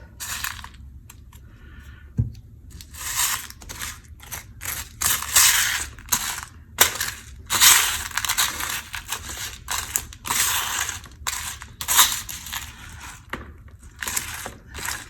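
Glass crystals for a resin geode are scooped and shaken, giving bursts of bright crunching, rattling clinks in irregular clusters, close and fairly loud, with no talking.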